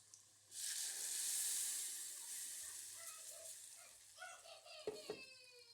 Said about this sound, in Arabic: بشوحه بس في الزيت كده، لان الثوم بيدي للصلصة طعم حلو وريحة حلوة